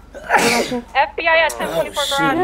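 A single sharp sneeze bursts out early, close and loud, followed by people talking in a casual outdoor encounter blamed on pollen.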